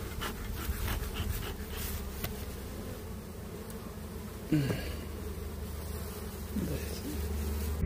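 Honey bees buzz around beehives being prepared for rapeseed bloom, a dense continuous hum from many insects close by, with individual bees droning past the listener.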